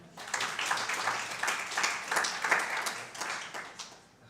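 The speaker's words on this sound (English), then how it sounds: "Can we clap for them?" An audience at a panel discussion on food crisis responses claps for the panelists, a short burst of mixed hand claps that swells and fades over roughly four seconds.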